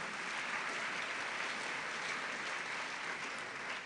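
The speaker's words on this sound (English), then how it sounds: "Please let's give them a round of applause." Audience applause at a public debate event, a dense steady wash of many hands clapping continuously and loudly for the whole stretch with no voices over it.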